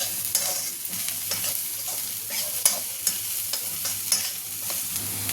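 Peeled bitter gourd skin fries in a pan with spices under a soft, steady sizzle, punctuated by repeated scraping and clicking stirs of a spoon against the pan.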